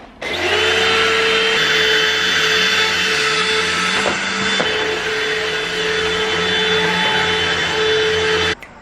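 A vacuum cleaner runs loudly and steadily with a high whine, starting and stopping abruptly, with a couple of faint knocks partway through.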